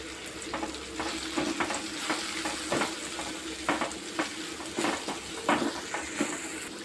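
Egg bhurji frying in a pan with chilli powder added, a steady close sizzle overlaid with rhythmic spatula scrapes and stirring strokes, with no talking.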